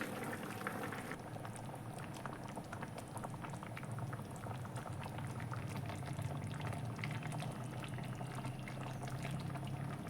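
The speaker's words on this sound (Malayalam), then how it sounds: "അപ്പോൾ നമ്മുടെ റൈസ് തിളച്ചിട്ടുണ്ട്." Rice boils steadily in a pot on the stove, a dense continuous bubbling and simmering that stays close and even throughout, with no voices.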